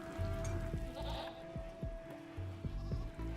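Goat bleats from RimWorld, several short repeated calls with a steady tonal hum and faint rain-like background noise, no talking.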